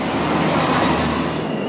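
A New York subway train pulls into Times Square station, producing a loud, continuous, close rumble of wheels and cars on rails with no voices.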